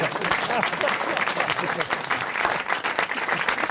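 Studio audience applause on a French radio comedy panel show, a brief steady burst of close, dense clapping with voices faintly mixed in.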